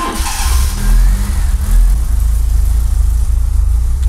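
A Fiat Seicento Turbo engine fitted with an Ecumaster DET3 and a black injector runs loud and close. It rises into a few revs, then settles into a steady, throbbing run.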